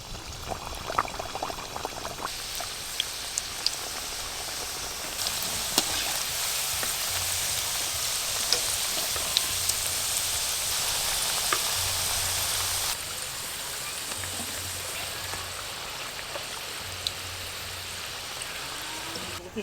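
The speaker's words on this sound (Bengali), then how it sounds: "এবার আমি নাস্তাগুলো ভেজে নেব।" Snacks fry in hot oil with a dense, continuous bubbling hiss like heavy rain, steady and close, with occasional small clicks and no talk.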